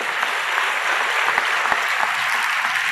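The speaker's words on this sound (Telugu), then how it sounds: "ఇప్పుడు కొట్టాలి కదా చప్పట్లు." An audience applauding at a Christian sermon, dense, even clapping filling the room continuously from start to finish.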